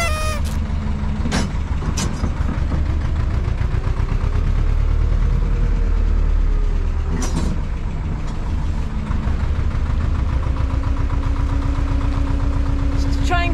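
A narrowboat's diesel engine churns steadily on a freezing winter canal cruise, thrown into reverse and revved to clear the propeller, a continuous low rumble with a few sharp knocks, close and fairly loud throughout.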